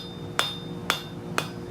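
Hammer striking hot hand-forged iron scroll on an anvil to bevel it, three sharp ringing metallic blows spaced about half a second apart, close and alone.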